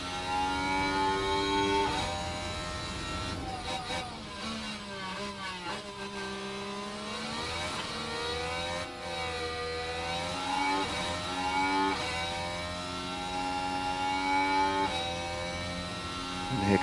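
Formula 1 race cars in F1 Manager 23 at Melbourne scream past with high, sweeping engine tones that rise and fall as they pass one after another, loud and continuous with no talking.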